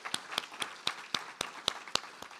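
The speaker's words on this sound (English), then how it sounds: "A big round of applause." Sparse, evenly spaced claps ring out at a faculty event, roughly ten distinct hand claps in a slow rhythm, fairly close and crisp but quiet overall, like a small group or a single person applauding.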